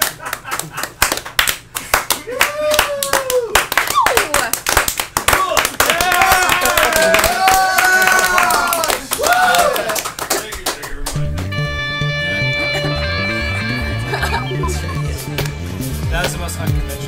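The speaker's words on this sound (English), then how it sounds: "Slow clap." Slow hand claps from a punk rock audience in a small live studio, separate claps spaced out over the first half with voices and cheering mixed in, then music takes over.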